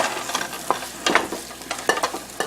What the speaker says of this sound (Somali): waxaan basasha ku shiilaya